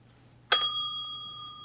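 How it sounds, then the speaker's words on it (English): A single struck ring of a small bell, the kind rung to welcome a first-time card maker, with a crisp attack and a clear tone that rings on and decays slowly in a quiet room. "We ring that bell every time there's a new card maker who sends in a card."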